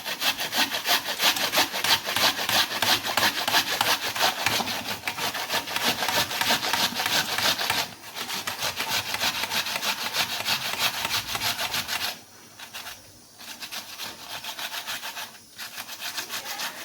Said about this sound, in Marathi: हे बघा त्यानंतर कांदाही किसून घेते.